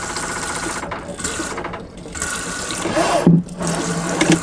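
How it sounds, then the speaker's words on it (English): Movable shower tap in a campervan running hot water, a steady close hiss of spray that shifts in texture as the flow pattern changes, with a few faint clunks. "it is one of those movable shower tap type things"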